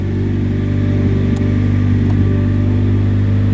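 A 1986 Ford Sierra L engine runs at a steady idle, with a constant low, even drone and no revving or breaks. The sound is close and moderately loud throughout.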